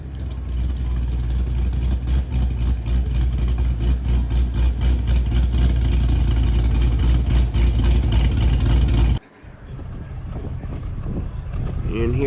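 A cammed LS V8 engine idling with a loud, steady, lumpy low rumble that keeps a choppy rhythm, close by, then cutting abruptly to a quieter, different sound near the end.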